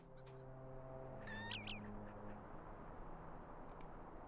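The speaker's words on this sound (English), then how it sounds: "They're cats." Cats meow in a video game, a short pair of rising, close meows above a steady low ambient drone, with a faint extra mew near the end.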